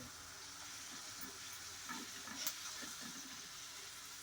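Okra (bhindi) frying crisp in a pan over medium heat, a soft steady sizzle with faint stirring scrapes, quiet and continuous with no talking.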